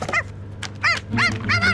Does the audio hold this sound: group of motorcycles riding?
no